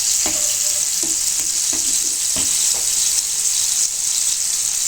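Fish pieces shallow-frying in oil on a low flame, a continuous bright sizzle with a few soft clinks and scrapes as pieces are turned, close and without talk.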